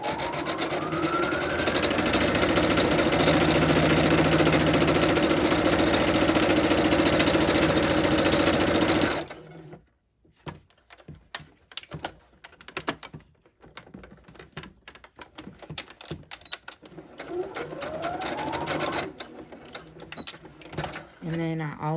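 A sewing machine runs steadily for about nine seconds stitching a bridesmaid dress with plastic boning, then stops, leaving quieter handling clatter and small taps.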